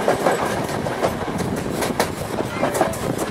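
The WP 7200 steam locomotive runs along the rails with a continuous rumble and rhythmic clickety-clack of wheels, heard from nearby over engine noise, with voices talking faintly.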